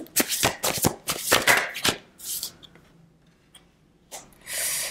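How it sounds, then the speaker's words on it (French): A deck of tarot cards is shuffled in several quick riffled bursts close up, then a pause with soft taps, then a final papery slide as a card is drawn. "Ok, on va prendre une autre carte ici."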